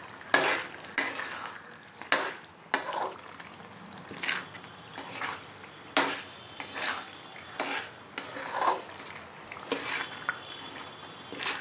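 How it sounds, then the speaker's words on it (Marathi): Masala for undhiyu frying in a pan with a steady sizzle, punctuated by repeated scrapes and clinks of a spoon stirring against the metal, close and unhurried, with no talking. "मग हा मसाला मस्त फ्राय झाला आहे."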